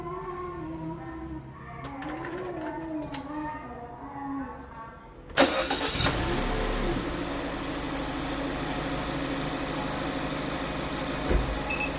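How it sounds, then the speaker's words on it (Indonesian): A car's starter cranks and the engine catches with a sudden loud burst, then settles into a steady, close idle hum; faint tones and clicks come before the start. "coba kita starter lagi, tracking test"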